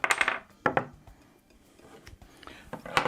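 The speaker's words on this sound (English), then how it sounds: "Get rid of the trusty scissors." Scissors are set down on a kitchen counter near a cutting board, giving a few sharp, close metallic clinks and clatters, with quieter handling knocks between them.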